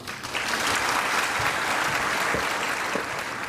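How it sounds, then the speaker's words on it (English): Steady, dense applause from a large audience at a formal business gathering honoring guests from China, filling the whole moment without pause and heard fairly close. "So please give him a big round of applause."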